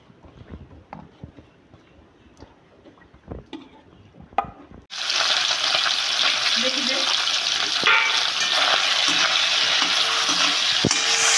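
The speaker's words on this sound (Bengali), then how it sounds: "মাছগুলাকে একটু ভেজে নেব।" Small mourala fish drop into hot oil in a pan after a few quiet clinks, setting off a loud, steady sizzle of frying that carries on to the end, with occasional knocks of a utensil.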